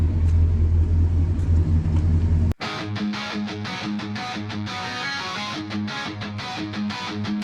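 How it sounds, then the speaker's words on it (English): Beat-up car carrying a boat at a waterless boat demolition derby at Havasu 95 Speedway in Arizona, a heavy low engine rumble that cuts out abruptly, followed by a rhythmic pulsing mechanical sound. "Turn the key. Hear that rumble"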